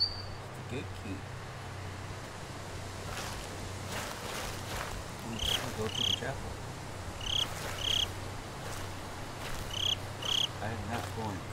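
Crickets chirp in the horror video game Slender: The Arrival, short high bursts repeating in clusters over a low, steady night ambience, with faint rustling and step-like thuds mixed in.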